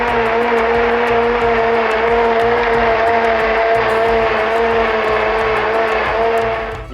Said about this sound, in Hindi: ये सारी चीज़ें एक साथ जग में डाल के तो आपने ग्राइंड करनी है